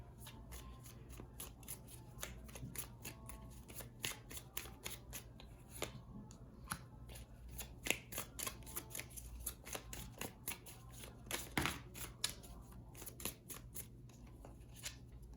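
A deck of tarot cards being shuffled and drawn, with dense, rapid riffles and snaps running steadily throughout, close and fairly quiet with no talking.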